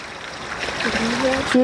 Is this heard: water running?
yes